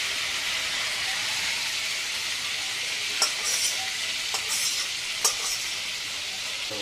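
Prawns fry in oil with a constant close sizzle and hiss, broken by a few sharp clinks and scrapes of a utensil against the pan.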